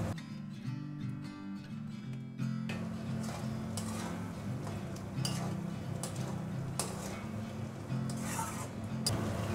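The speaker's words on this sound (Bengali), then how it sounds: "এবার এর মধ্যে দিয়ে দেবো ভেজে রাখা পটল।" Fried pointed gourd pieces go into a pan of Bengali curry paste and get stirred, a spoon scraping and rubbing against the pan in quick, repeated strokes, fairly close and quiet with no talking.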